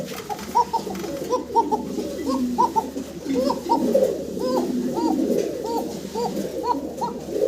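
Fancy show pigeons from a pair offered for sale coo loudly and steadily, a dense run of repeated calls layered over one another close to the microphone, with other birds chirping faintly behind.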